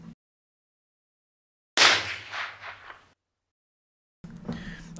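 A gunshot fires a bullet through a piece of chalk, one sharp close crack followed by a brief ringing decay, set in silence with another short noise burst afterward.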